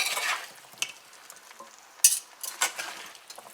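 Pumpkin frying in a pot is stirred, giving a soft sizzle under bursts of scraping and clinking from the spoon, several strokes spread over a few seconds at close range.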